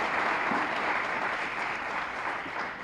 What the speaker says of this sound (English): I think you guys should take another round of applause for you and all of your efforts